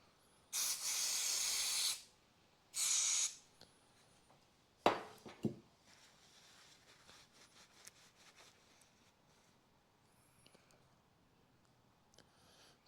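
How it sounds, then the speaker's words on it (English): Brake cleaner aerosol sprayed onto a mucky banjo fitting bolt from a 2012 Kia Picanto 1.2 petrol's rear brake caliper: two loud hissing bursts, about one and three seconds long, followed by clanks of handling the part. "We give this a little blast off with some brake cleaner."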